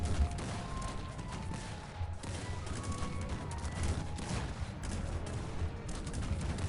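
Continuous dense gunfire crackles and pops throughout in the video game Cossacks 3, layered with rumbling explosions and battle noise, steady and busy without a break.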